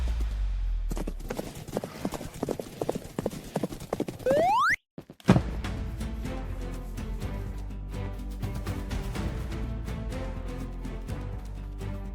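Rhythmic horse hoofbeats in Minecraft clip-clop steadily over a music bed, broken by a brief whinny and a short silence, then steady music continues.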